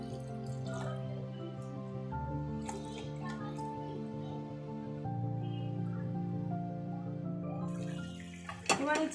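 Spice-bowl rinse water poured into a pan of chicken for a Bengali yogurt chicken dish and mixed in, a steady close liquid wash with faint drips, alone with no talk.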